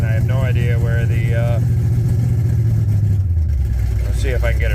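An old Chevy V8 with open headers idles loud and lumpy at close range, a steady low rumble running under a voice.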